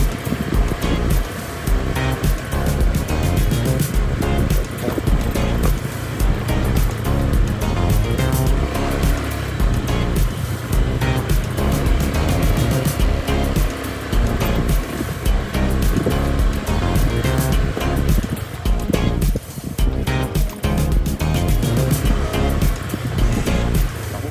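A Honda Click 125i V3 scooter rides along a road on a trip from Manila to Zambales, its engine and wind roar loud and steady throughout with no breaks.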